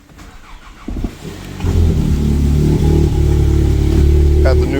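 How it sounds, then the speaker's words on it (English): A car's engine cold-starts in the morning, with a brief crank and catch followed by a loud, steady idle that settles low and continuous; a voice speaks briefly near the start. "give you guys a little cold start this morning"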